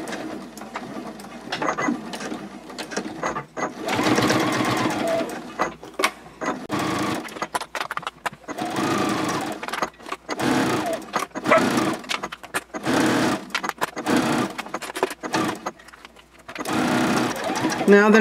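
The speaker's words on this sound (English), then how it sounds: "I'm sewing 1/8 of an inch away from the edge of the wristlet" A sewing machine top-stitches a wristlet card clutch about an eighth of an inch from the edge at a 3.4 stitch length, running in short, rapid bursts separated by pauses, with a person talking between the runs.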